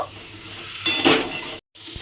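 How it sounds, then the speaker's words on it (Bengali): Drumstick pieces being stirred with spices in a metal cooking pot, a burst of scraping and clinking of a utensil against the pot over a constant background hiss, ending in a brief cutoff and a soft knock. "সেই সজনা ডাঁটাটা আমি এর মধ্যে দিয়ে দিলাম দিয়ে এবারে খুব ভালোভাবে মশলার সঙ্গে একটু মিশিয়ে নেব"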